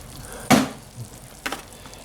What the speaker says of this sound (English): A little more in there, and I'll mix it all together.